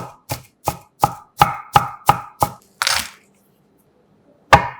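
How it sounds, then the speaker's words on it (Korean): A knife cuts half an onion into small pieces on a board: nine quick, evenly spaced chops, a brief scraping sweep, a pause, then one more sharp chop, close and dry. "양파 반개는 칼집 여러 번 넣고 작은 사이즈로 잘라 팬에 담아주세요."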